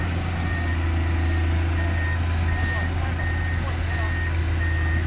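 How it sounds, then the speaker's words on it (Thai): A six-wheel truck moves at a construction site with a steady loud engine rumble and a regular reversing beep repeating throughout, nearby, with some faint background voices. "เดี๋ยวหกล้อจะลงชั้นล่าง"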